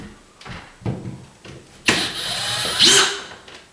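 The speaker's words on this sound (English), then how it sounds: "Now I'm gonna pull all these screws" A power drill driving out screws while straightening bad off-angles, heard in short bursts of whirring followed by a longer, louder spinning run near the end, close up with no talking.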